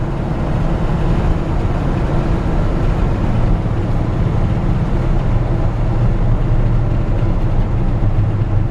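A 1966 Ford F100 pickup with a strong 390 V8 and three-on-the-tree manual shifter driving along a road, a loud, steady, low engine drone with road rumble throughout, no voices.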